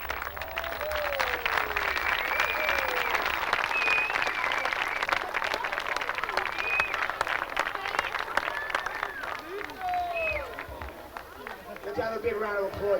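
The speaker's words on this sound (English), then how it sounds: "Let's have a big round of applause for these guys." Crowd applause for children at the 1993 World Children's Baseball Fair in San Diego, steady clapping spread through a lively gathering with chatter and excited voices rising over it.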